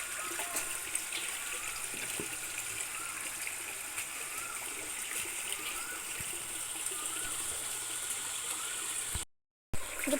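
Water is poured over a pet dog during its bath, making a continuous splashing stream at close range that runs steadily before cutting off briefly near the end.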